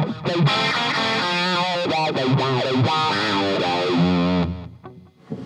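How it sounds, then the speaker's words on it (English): Electric guitar run through an envelope filter, giving vowel-like, sweeping wah tones on a busy phrase of notes with chorus-style shimmer; loud and close, alone with no talking, cutting off near the end. "let's see, envelope filter."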